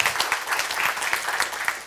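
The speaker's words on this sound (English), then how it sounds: "Let's have another round of applause for Mark and our presenters this morning" Applause from a conference audience for the morning presenters after a panel session, a steady wash of many hands clapping together at close range for a couple of seconds.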